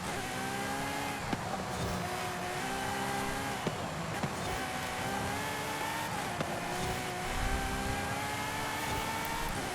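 A Ferrari FXX-K Evo race car in Forza Horizon 5 holds a steady, loud high-revving engine drone with a few sharp gear-shift clicks, no talk over it.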